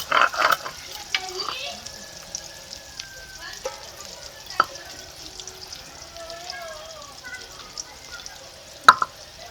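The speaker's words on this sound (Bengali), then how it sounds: "এই তেলে বেগুনগুলোকে হালকা ভেজে নেবো" Eggplant slices sizzle softly in hot oil with occasional sharp clicks and scraping stirs, as a person talks over the frying.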